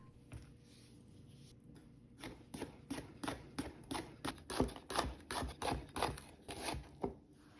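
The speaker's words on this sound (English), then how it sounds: "Slice up 4 to 5 fresh jalapenos." A knife slices through 4 to 5 fresh jalapenos on a board, a quick run of crisp, close cuts in a steady rhythm after a quiet start, with no talking.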